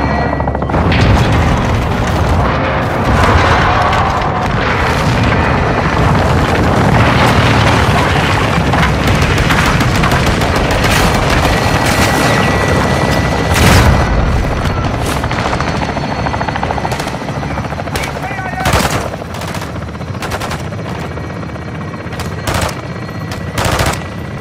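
Fire support in Modern Warfare II: a loud, dense barrage of heavy gunfire and booming explosions over a constant helicopter-like rotor roar, with sharp bursts clustering toward the end.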